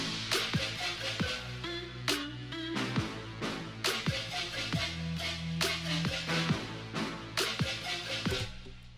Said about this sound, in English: here's an EDM type drop right here into a trap drop, and it sounds like this.